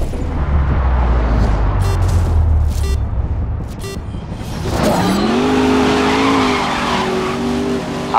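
Race cars in the Grid racing game: engines roar loudly before a tire screech rises and a car skids out of control, squealing with a wavering pitch over the engine noise.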